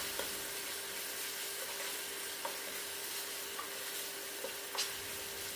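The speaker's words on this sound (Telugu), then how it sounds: "మనం గ్రైండ్ చేసి ఉంచుకున్న మసాలా పౌడర్ని కూడా వేసుకుని పచ్చివాసన పోయే వరకు బాగా వేగనివ్వాలి" Onion paste and ground masala powder frying steadily in a pan, a soft continuous sizzle with faint occasional stirring clicks, close and alone without any talk.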